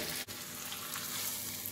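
Onion and curry leaves sizzle steadily in a hot pan while chicken kurma cooks, a close, continuous fry with a faint stir or tap near the start and no talking.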